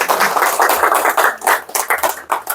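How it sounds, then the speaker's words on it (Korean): Clapping from a lecture audience at a university continuing-education talk, heard as a loud, close patter of hands in uneven pulses, swelling and dipping over a few seconds. "박수 한번 쳐주세요."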